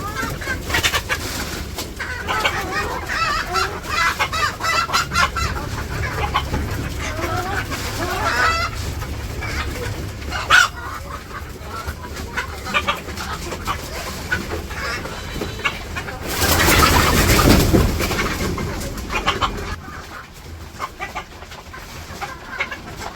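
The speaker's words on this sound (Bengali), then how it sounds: "তো মুরগির ঘরে এসে পড়ছি" Chickens cluck and murmur inside a village chicken coop at feeding time, a steady busy flock sound with occasional louder calls and a burst of rustling flapping near the end.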